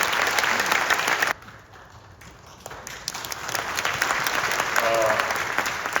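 Applause in a Korean church after an elder's testimony, a crowd clapping that dips to a softer patter for a couple of seconds before swelling back to full, steady clapping.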